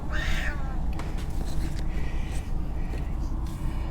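A cat in an RV meows loudly in a drawn-out yowl at the start, followed by softer scattered sounds over a steady low rumble.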